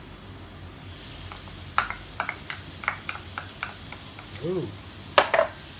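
Garlic and onion frying in olive oil for truffle pasta, with a steady close sizzle punctuated by rhythmic stirring clicks and scrapes, and a brief exclamation from a voice partway through.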